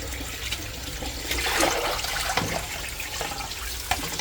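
Running water rinses a fresh rui fish being cleaned in a kitchen, a continuous close splashing stream with small shifts and splatters, no voices.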